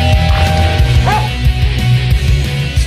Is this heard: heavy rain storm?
no